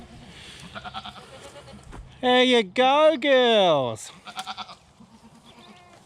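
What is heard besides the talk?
South African Boer goats bleating on a farm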